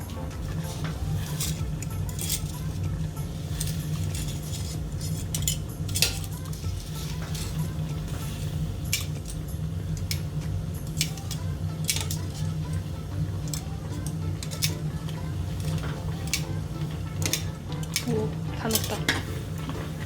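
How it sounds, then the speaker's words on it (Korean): Pasta goes into a pot of boiling water in a small home kitchen and is stirred, with repeated metallic clinks of utensil against pot over a steady low bubbling hum, while someone talks. "이렇게 물이 끓어오르기 시작하면 파스타를 넣어주겠습니다"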